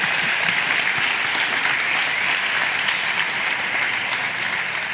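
Steady, dense applause from a crowd, sustained evenly throughout at close range.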